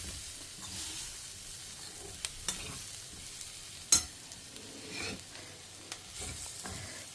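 Onions and green chillies sauté in a pot for a one-pot peas and paneer pulao, a quiet, even sizzle with occasional stirring knocks and one sharper clank of a utensil.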